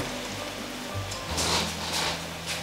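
Chicken meat sizzling and starting to burn in a pan, a steady crackling hiss with soft bursts of spatter, close by under low background hum.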